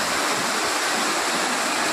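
A stream of water runs down from the hill in a steady, loud, close rushing wash of a small waterfall near the Panchalingeswar temple in Odisha, with no voices.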